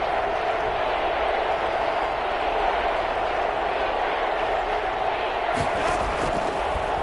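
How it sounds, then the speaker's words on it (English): A stadium crowd at a football game roars in a steady, dense wall of noise as a big third down approaches, loud and unbroken throughout. "the crowd getting into it as we come up on a big third down"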